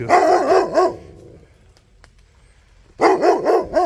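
A dog barks in the woods in two short, loud bursts of several barks each, separated by a quiet gap of about two seconds.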